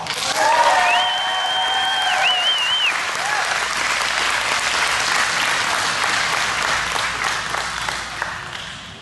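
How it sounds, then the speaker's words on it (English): An audience applauds loudly and steadily at a 2021 county fair queen coronation, dense crowd clapping sustained throughout, with a few whistles and cheers rising over it early on. "Please give them another round of applause."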